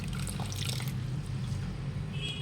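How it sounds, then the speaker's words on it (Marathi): Washed fenugreek leaves drain in a sieve, water trickling and dripping through the mesh in a steady, soft, continuous flow close by. "पूर्ण पाणी निथरू द्यावं लागेल आपल्याला."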